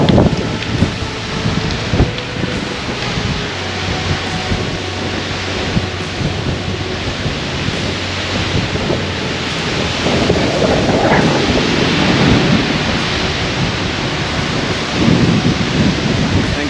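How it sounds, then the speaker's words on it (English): A severe thunderstorm rolls in over a full-time RV living setup, with heavy rain hissing on surfaces, wind buffeting the microphone and deep rumbles of thunder building and swelling throughout. "Got a little severe thunderstorm rolling in"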